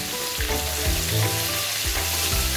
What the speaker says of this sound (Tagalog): para makapag-isa na tayo ng bawang, luya, sibuyas.